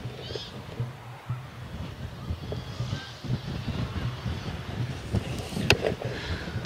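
Steady wind buffets the microphone with low rumbling gusts, mixed with distant zodiac engine and water noise in Murcia, Spain, constant for several seconds.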